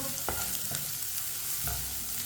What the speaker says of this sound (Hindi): दोनों चीज़ों को पका लेंगे, प्याज और सब्ज़ मिर्च को।